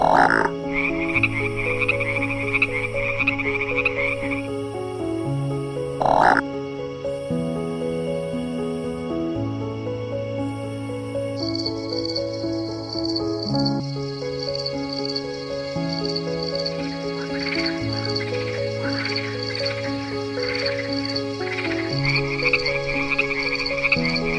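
Frogs croak steadily in a Costa Rican jungle, a dense layered chorus of repeating pulsed calls at several pitches with high insect-like trills over the top, continuous and close, no voices.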